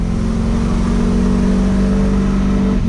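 Adamo GTL car fitted with a Puma exhaust, its engine giving a steady, loud, deep rumble with a strong low hum throughout, heard continuously from close by with no talking.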